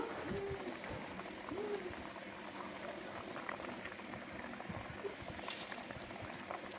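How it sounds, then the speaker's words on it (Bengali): Pointed gourd and fish curry boiling in a pot in a village kitchen, a soft continuous bubbling simmer with a faint bird call in the background and no talking. "ঝোলটা আমার ফুটে গেছে"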